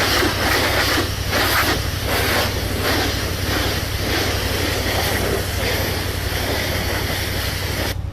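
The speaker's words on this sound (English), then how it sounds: "What I'm doing is just kind of misting over with that pressure to carry the material off." Steady, loud hiss of a pressure washer spraying an Earth & Turf 415-SP spreader, a continuous broadband rush with a low engine drone underneath, unbroken throughout and with no talk.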